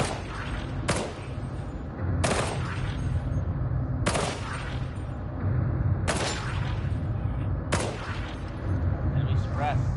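Gunfire in the video game Warhammer 40,000: Darktide: several loud, sharp shots spaced a couple of seconds apart, each with a booming tail, over a constant rumble of background game noise.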